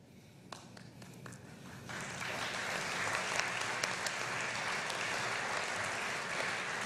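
Audience applause at a Rotary district conference as Rotarians from Guadeloupe, Martinique and French Guiana stand; scattered early claps swell into steady, dense clapping from a large crowd in a hall that holds to the end.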